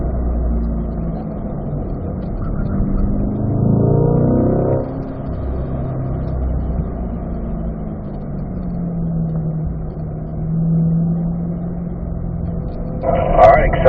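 A Corvette on a race track accelerates out of a corner, with engine drone rising and falling under someone talking through most of the stretch.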